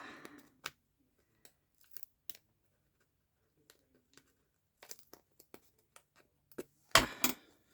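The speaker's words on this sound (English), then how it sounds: "Again, I'm going to cut this off." Scissors snip through material while foil embossing: a few sparse, quiet cuts spread across the stretch, ending in a louder, crinkly double snip near the end, with no talking.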